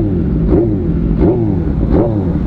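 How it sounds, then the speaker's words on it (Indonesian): A big motorcycle with a Resfit exhaust and Rizoma tank revs close by, the engine rising three times in quick rhythmic blips over a loud, steady idle. "Oke, kita coba tes nyala mesin."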